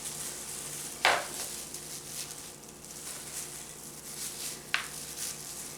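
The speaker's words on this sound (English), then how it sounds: "I'm going to slice up some limes." A knife cuts through fresh limes for a red sangria, giving two sharp, separate slicing strokes several seconds apart over a faint steady background hiss.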